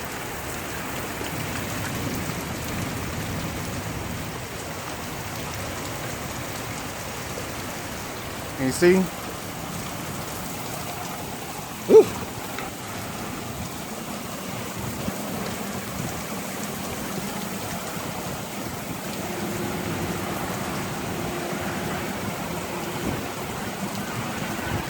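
Steady heavy rain hisses throughout an Oklahoma tornado storm near Boley, with a short exclaimed voice and two brief sharp cracks breaking through the constant downpour.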